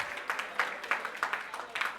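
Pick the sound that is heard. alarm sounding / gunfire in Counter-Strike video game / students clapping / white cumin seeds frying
students clapping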